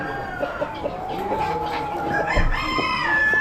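Roosters crowing at an Amish animal auction, close and clear, with overlapping crows and clucks from other fowl in the background.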